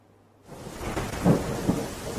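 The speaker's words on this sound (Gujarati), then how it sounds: "સુરેન્દ્રનગરના ગ્રામ્ય વિસ્તારમાં વરસાદ વરસ્યો" Thunder rumbles over steady rain in a rural storm in Gujarat, starting after a brief quiet moment and building to two loud, deep peaks amid the constant hiss of rainfall.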